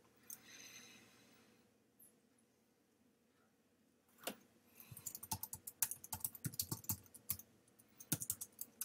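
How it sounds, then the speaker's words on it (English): Computer keyboard keys being typed during work in a Word document, tab and enter presses among them: after a quiet stretch, one sharp key hit, then a fast irregular run of close, crisp clicks and clacks. "That was a tab enter."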